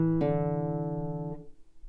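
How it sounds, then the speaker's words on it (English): On a country guitar lick, a quick run of four even semiquaver notes follows a held note, played clean and close with no talking, then fading out. "Then we're going to play 4 semiquavers, so that's 4 equal notes in one beat."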